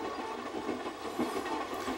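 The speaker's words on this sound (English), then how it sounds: "the big excitement is the sight of the train" A passenger train rolls across the Canadian Shield in 1989, giving a steady, loud rumble with rhythmic wheel clatter on the rails and no voices.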